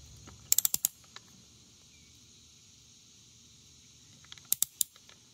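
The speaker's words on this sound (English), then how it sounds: "We're just working them down with this small torque wrench." A small torque wrench ratchets on coilover bolts of a 2022 Tesla Model 3 Performance, two quick bursts of crisp clicking a few seconds apart with quiet in between.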